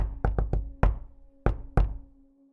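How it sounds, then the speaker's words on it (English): Knuckles rap on a wooden door in a playful, uneven pattern: a quick cluster of four knocks, then two spaced ones, close and loud with short hollow ringing tails and no voices. "That was a much more whimsical knock."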